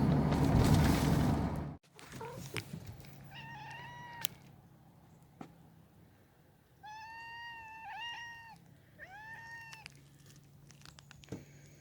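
Pet cats at home meowing: several distinct drawn-out meows spread over the stretch, moderately close, after a burst of rustling noise at the start and amid faint household background.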